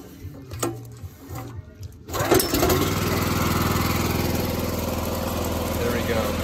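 Gas engine of a direct drive pressure washer, started with a short pull and then held at half throttle: a few sputters, then a loud, steady, buzzing drone that runs close and unbroken to the end.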